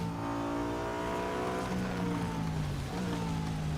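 A race car engine in the mobile racing game Real Racing 3 drones steadily at high revs, its pitch sliding and briefly dipping as if shifting gear near the end.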